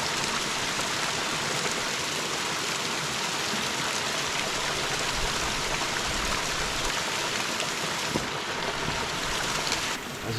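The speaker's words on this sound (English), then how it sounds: "We'll try and get to that bigger waterfall behind it." A waterfall and mountain stream on the Isle of Skye make a steady, close rush of falling and tumbling water, broad and unbroken throughout, with no voices.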